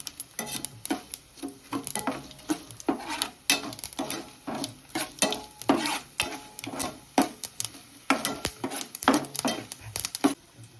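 Tempering spices sizzling in hot oil while a spoon stirs and scrapes the pan in repeated bursts, close by and fairly loud.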